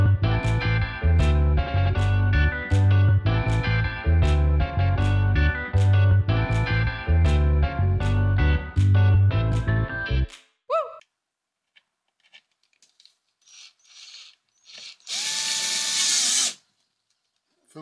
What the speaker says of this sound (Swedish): Så nu börjar vi med att borra ett hål här.